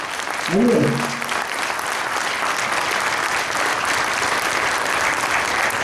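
An indoor audience at a food and diet camp in Jaipur claps in sustained, dense applause that fills the room evenly for several seconds, with a brief voice at the start.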